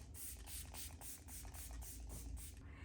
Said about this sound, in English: And this is e.l.f. setting spray.